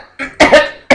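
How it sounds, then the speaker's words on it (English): A short cluster of harsh coughs from a character in StarTropics, two or three close, loud bursts in quick succession. "You cough."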